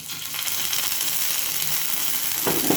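Crushed garlic, chili and ginger paste hit hot oil, giving a loud, dense, continuous sizzle that swells briefly near the end.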